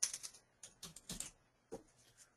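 Someone types on a computer keyboard in quiet, short bursts of a few clicking keystrokes, faint and close, with brief pauses between.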